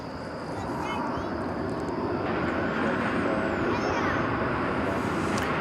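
Turkish Airlines flight 192 airliner bound for Istanbul at DFW Airport, a loud continuous jet engine roar building and holding steady, with people talking over it.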